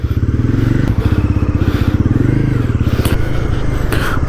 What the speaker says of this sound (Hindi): सो गाइस इसका एग्जॉस्ट नोट आपको कैसा लग रहा है बताना कमेंट सेक्शन में